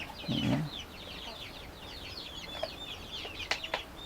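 Free-range village chickens cluck and chatter nearby as they are fed moistened feed, a busy stream of short clucks with a brief low thump early on, no talk heard.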